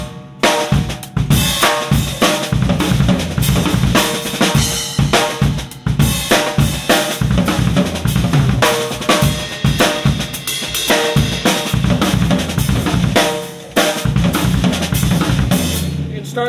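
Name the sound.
drum pattern ending with a six-stroke roll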